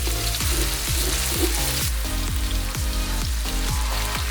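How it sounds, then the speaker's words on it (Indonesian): Sliced spices, including shallots and garlic, sauté in a hot pan with a steady, loud, continuous sizzle and no talking. "Emak tumis dulu bumbu irisnya sampai harum ya"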